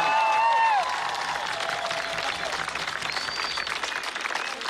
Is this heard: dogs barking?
no